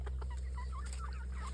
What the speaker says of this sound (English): We've got a little rooster in here.